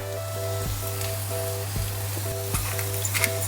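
Shrimp fry in butter with golden garlic, making a continuous close sizzle broken by a few light spatula knocks and scrapes against the pan, with a faint hum underneath.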